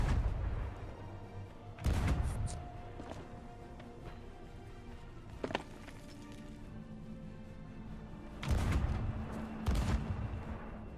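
Heavy ship cannon blasts boom out amid a dense, rumbling naval battle din in Sea of Thieves, with a few sharp bangs standing out over the steady roar.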